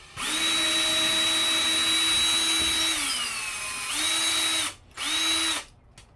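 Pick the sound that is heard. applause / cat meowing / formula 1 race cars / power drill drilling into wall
power drill drilling into wall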